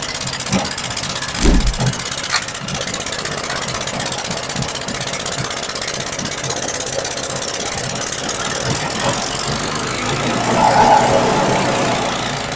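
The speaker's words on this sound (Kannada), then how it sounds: "ಇದ್ರಲ್ಲಿ ನಾವೀಗ ಪೆಟ್ರೋಲ್ ಇಂಜಿನ್ ಹಾಕಿರಲ್ವಾ" A petrol engine fitted to a sugarcane juice machine idles steadily and close by, a continuous mid-pitched running drone with a few brief knocks early on and a slight swell near the end.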